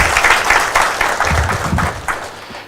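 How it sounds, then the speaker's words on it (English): An audience applauds at a talk event, steady dense clapping from many hands, close and loud, tapering slightly toward the end. "Please give him a round of applause."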